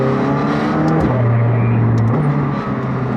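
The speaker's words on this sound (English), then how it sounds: "Now that sound is freaking incredible, and it's due to a factory titanium exhaust" A McLaren 765LT Spider's loud, steady engine note through a factory titanium exhaust drones close by, its pitch stepping up and down as the motor is revved, with no talking.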